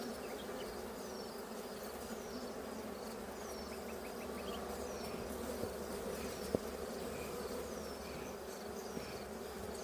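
Honeybees buzz steadily around an opened hive during a June inspection while comb frames are added, a faint dense hum with a few brief knocks and no talk.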